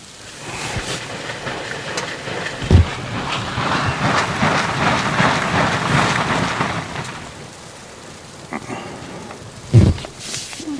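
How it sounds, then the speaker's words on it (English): Gear being packed up inside a wood-stove hot tent on a snowy winter overnighter, a steady rustling and shuffling wash with a couple of sharp knocks, close and moderately loud. "That's the sound of Rick packing up, getting his stuff ready"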